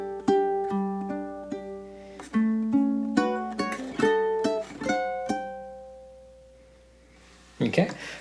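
A ukulele picks out bars 3 and 4 of a song, a slow melody of single plucked notes with chords ringing out. It stops into a pause before a short louder strum near the end. No one speaks.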